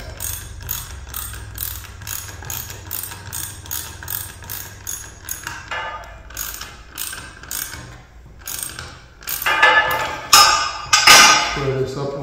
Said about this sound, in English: get my ratchet and tighten the